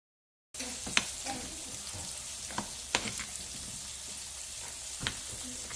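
Cube steaks frying in a pan give a steady low sizzle throughout, with a few sharp pops and clinks from utensils scattered over it; no one speaks.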